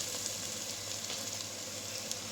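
Half a kilo of washed minced meat sizzles and fries steadily in a pan with golden onions, a continuous close hiss with faint crackles and no talking.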